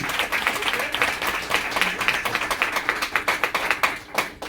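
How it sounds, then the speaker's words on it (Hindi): Audience applause at an annual day celebration at a Brahma Kumaris centre, a steady patter of many hands clapping throughout, rising into sharper distinct claps toward the end. "तो फिर से तालियां हो जाए"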